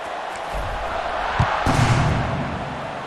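Stadium crowd noise at kickoff in the College Football 26 video game, Baylor Bears against Texas Tech Red Raiders, a steady wash of distant roaring fans with a few brief thumps rising midway.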